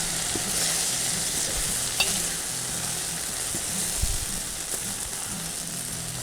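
Prawn biryani rice being stirred and mixed in a pot, a steady soft sizzle with scraping strokes of a spoon running throughout, close and fairly loud, with no talking.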